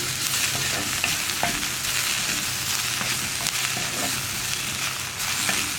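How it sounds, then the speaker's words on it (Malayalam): Okra sautéing with chili powder in a pan for Kerala aviyal, a steady dense sizzle with occasional stirring scrapes, continuous and close without any talking. "പൊടികളുടെ റോ ടേസ്റ്റ് മാറി വെണ്ടയ്ക്ക ഒന്ന് കുക്കായി കിട്ടുന്നത് വരെ നമ്മൾ ഇടയ്ക്കിടയ്ക്ക് ഇളക്കി കൊടുക്കുക"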